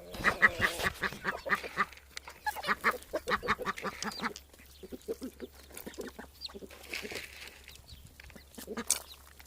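Farm ducks quack in bursts of rapid, loud calls, close by, with chickens clucking among them and pauses between the flurries.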